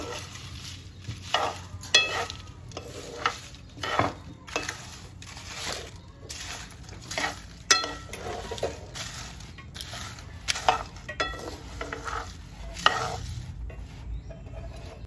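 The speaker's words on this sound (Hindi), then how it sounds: "एक मिनट तक सबको मिलाकर भूनेंगे।" Garam masala spices dry-roasted in a pan, with a spoon stirring and scraping through the whole spices in an irregular rhythm of rattles, clinks and soft crackles, close and moderately loud, with no talking.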